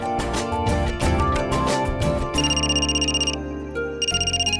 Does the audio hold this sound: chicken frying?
no